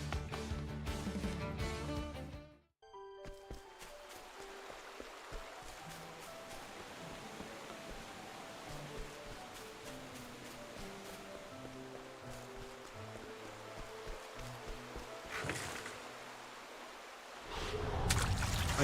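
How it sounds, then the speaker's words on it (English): A waterfall in the video game Octopath Traveler II gives a steady rushing wash of water under soft game music, with a brief cutout partway through and a louder surge of water near the end. "I can't go up this waterfall"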